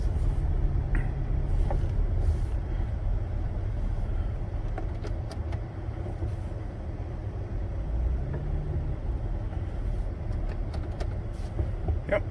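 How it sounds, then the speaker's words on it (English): A Toyota Sienna minivan drives slowly around a parking lot after a shifter repair, its steady low engine and road rumble heard from inside the cabin throughout. "Now we're in drive. Just gonna drive around a lot real quick."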